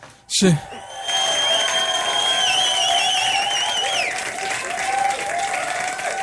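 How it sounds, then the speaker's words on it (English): Studio audience applauding and cheering loudly on a talk show as a phone call comes in, with a sustained wash of clapping, whoops and a steady high tone after a sharp opening burst. "y'all got to give her a big round of applause"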